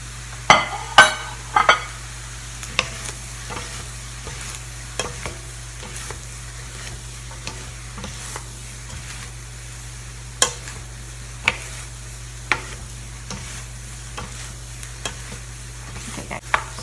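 Cabbage, baby corn and leafy greens sizzle steadily in a hot pan, with a spatula scraping and clinking against it in scattered, sharp strokes over a constant frying hiss.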